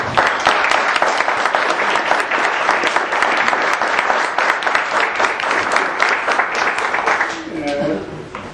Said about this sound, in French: nous allons acclamer notre prochain invité, Robin Philpott